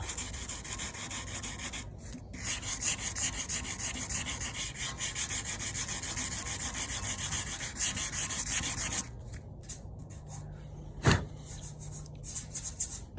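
Sanding out scratches on a painted tank to feather the paint, steady close rasping strokes that run continuously, then stop into a few short rubs and knocks.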